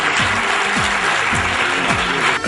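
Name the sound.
audience applause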